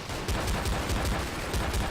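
Rapid bursts of gunfire from a Garry's Mod zombie survival match, regular repeated shots cracking in quick succession, loud and close with a dense backdrop of game noise and no voices.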